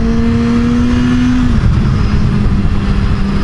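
A 2014 Kawasaki Z1000 Special Edition motorcycle on a test ride gives a loud, close engine drone with a steady tone that shifts pitch partway through as the rider changes speed, backed by constant wind rush.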